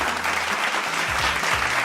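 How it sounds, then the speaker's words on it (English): A crowd gives a short burst of steady clapping, dense and continuous, with a low hum of voices mixed underneath. "So round of applause for everybody."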